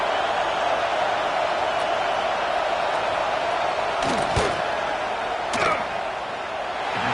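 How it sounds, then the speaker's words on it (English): Stadium crowd in NCAA 26 college football, Miami at LSU, a constant loud roar of fans during a fourth-down field goal attempt, with a couple of brief thuds. "This crowd trying to do its part to get inside the kicker's head."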